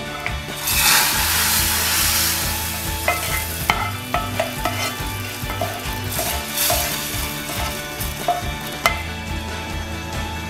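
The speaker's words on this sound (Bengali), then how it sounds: "এবার আমি 5 ফোড়ন দিয়ে দিলাম। পাঁচ ফোড়ন ফুটতে শুরু করলে" Garlic and panch phoron fry in hot oil for lentil vuna, with a loud, close, continuous hiss and crackle and brisk stirring scrapes throughout.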